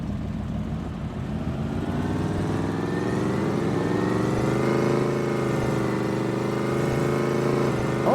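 An old tractor with a 350 small block engine and a modified six-speed gearbox runs steadily and loudly close by, its engine note rising and shifting gradually as it drives, with no talk over it.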